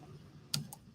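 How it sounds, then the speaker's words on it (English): Typing on a computer keyboard: two quick, faint key clicks close together against a quiet room hum. "Oh, can you see the typing?"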